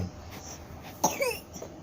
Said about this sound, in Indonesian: Tuh batuk udah tuh kan batuk kan.